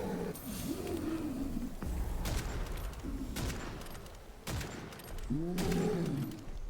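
Shotgun blasts from the video game Witchfire, a few loud booming shots spaced a couple of seconds apart over game music and creature roars.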